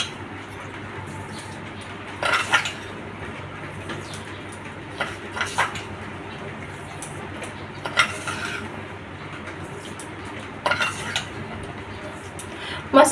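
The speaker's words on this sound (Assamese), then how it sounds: "এতিয়া মই ধুনীয়াকৈ চেনিখিনি মিক্স কৰি আছোঁ" Cutlery or a spoon clinking against a pan while sugar is stirred into a sweet mango mixture, a few distinct metallic taps spaced out over a soft, steady background scrape, fairly quiet and close.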